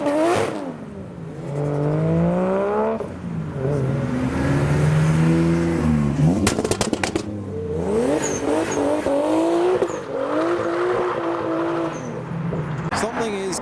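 Japanese cars at a 2020 car meet, including Skylines, Silvias and Supras, rev and accelerate past one after another, with rising and falling engine notes, loud and close, while people talk over them.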